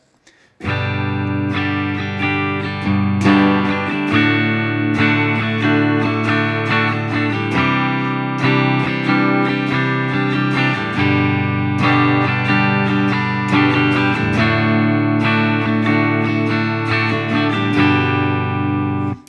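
An acoustic guitar strums chords in a steady rhythmic pattern of down and up strokes, sounding close and alone for the whole clip.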